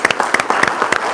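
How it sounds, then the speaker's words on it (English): Brief burst of audience applause at a live college of management event, dense overlapping claps filling the room at steady loudness. "How about a big round of applause?"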